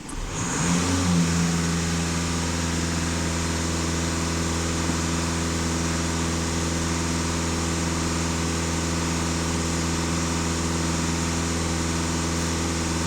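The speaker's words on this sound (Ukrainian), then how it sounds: "Даю газ в пол." A VW Passat B8 2.0 TDI diesel engine is held at full throttle, a steady, loud, sustained drone that rises quickly and holds constant throughout, with no talking.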